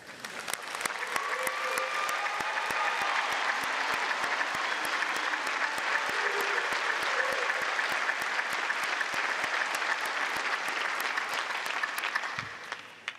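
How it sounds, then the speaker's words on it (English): A large crowd at a university commencement applauds graduating pharmacists, producing sustained, steady, dense clapping that fills a big hall before tapering off at the end. "So let's applaud these graduates."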